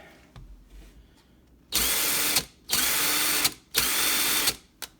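A HART 20V cordless impact driver fires three loud bursts of rapid hammering, each lasting under a second, separated by short pauses after a quiet start.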